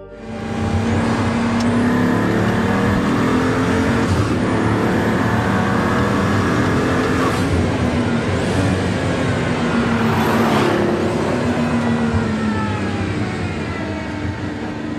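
A Pagani Huayra's handcrafted Mercedes-AMG engine roars steadily and loudly throughout, with sustained revving and a few rising surges, no talking present.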